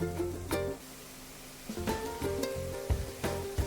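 Broad beans stir-fried in coconut oil sizzle steadily in a pan while a spatula scrapes and stirs them in quick, repeated strokes close by.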